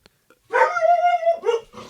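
A dog gives a long, drawn-out bark-howl, loud and close, followed by a shorter second bark, in an otherwise quiet room with no talk.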